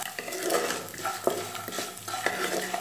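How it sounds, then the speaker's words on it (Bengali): Curry leaves and chopped garlic fry in oil for lemon rice, a steady close sizzle broken by repeated scraping stirs and light clinks of a spoon against the pan. "4-5টা কারি পাতা আর 4-5 কোয়া রসুন কুচি দিয়ে আবার এটাকে 1-2 মিনিটের মতো একটু ফ্রাই করে নেব"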